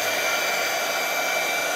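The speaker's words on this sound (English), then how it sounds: "now I'm gonna hit this with my dryer, my heat gun." A heat gun blows a steady, loud, even whoosh for a moment as it dries watercolor paint, with no pauses or talk.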